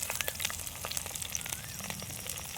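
Dried red chillies broken in half and curry leaves sauté in hot oil, giving a dense crackling sizzle with quick spattering pops throughout, near and continuous.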